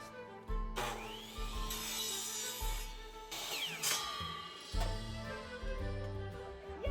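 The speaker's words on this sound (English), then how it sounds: "Chop saw!" A chop saw cuts through a small PVC tube in a workshop. It makes several loud, near bursts of spinning blade and cutting, separated by brief pauses, with no talk.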